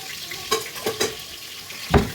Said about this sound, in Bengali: একটুখানি ভাজা ভাজা করবো আলুগুলো।